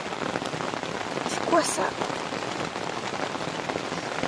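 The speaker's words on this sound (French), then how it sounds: "Écoutez la pluie." Steady rain pattering on a tent at dawn during a camping trip, a dense continuous patter with a brief louder burst of drops; a voice asks a short question partway through.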